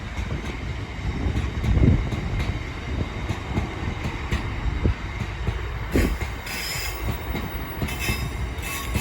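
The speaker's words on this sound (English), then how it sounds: "it's what we like to see, a nicely filled ballast train" A loaded ballast train rolls past on the East Coast Main Line at Peterborough, a loud sustained rumble of wagons with rhythmic wheel clatter and occasional squeals, steady throughout.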